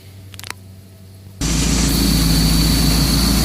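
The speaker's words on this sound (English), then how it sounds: "go ahead and start her up and run it up to operating temperature once again" A boat engine starts abruptly and settles into a loud, steady idle as it warms up to operating temperature, with faint clicks before it fires and a broad constant rumble afterward.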